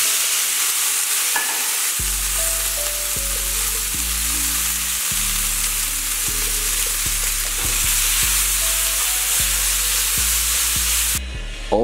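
About 500 grams of potatoes and beans fry in a pan with a loud, steady sizzle for the whole stretch, while low humming tones shift underneath; the hiss brightens sharply at the very end.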